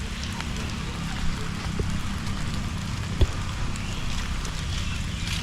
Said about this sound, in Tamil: ஃபுல்லாகவே மழை பேஞ்சிக்கிட்டு இருக்குது